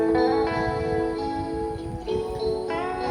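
Steady recorded MP3 music with sustained harmonic tones and a low rhythmic pulse, played at moderate volume from a Pioneer DV-310 DVD player with no talking.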